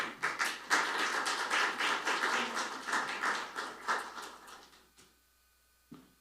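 Audience applause at a forum on amending the law for child care in religious facilities, welcoming a speaker to the podium; dense, steady clapping for about five seconds, then stopping abruptly, with a brief bump after.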